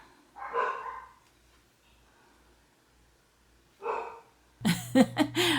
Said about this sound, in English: Our dogs seem to be barking at something outside.